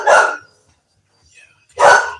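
Two loud, close dog barks, one at the start and one near the end, with near silence between them in a household with several dogs.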